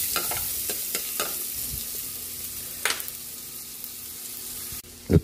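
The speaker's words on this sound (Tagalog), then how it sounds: "Magigisa na tayo para sa ating chicken apritada. Lagyan na natin tong butter. Sabay na natin yung bawang." Garlic sautéing in butter at the start of a chicken afritada, with a soft crackling sizzle, scattered stirring scrapes and a sharp clatter near the end.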